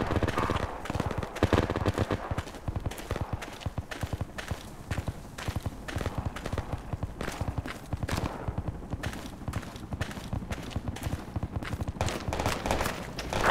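Enemy gunfire rattles through a PRTA infantry battle on Saaremaa, rapid bursts of automatic shots cracking in quick irregular succession throughout, loud and fairly close, with scattered single shots between the volleys.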